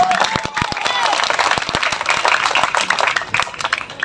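Audience at a live mimicry comedy show breaking into steady applause, dense clapping and crowd noise filling the space at close range without pause.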